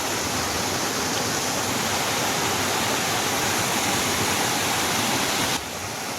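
Rushing water of a waterfall at a bathing spot, a steady dense roar filling the whole clip, loud and close, easing slightly in the final half second.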